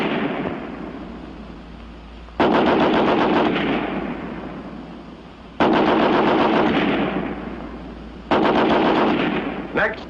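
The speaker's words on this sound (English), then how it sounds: "First, the American Light 30 on the bipod." American Light 30 machine gun fired from a bipod in a 30-round test, heard as three loud close bursts of rapid automatic fire, each rattling for a couple of seconds before a short pause.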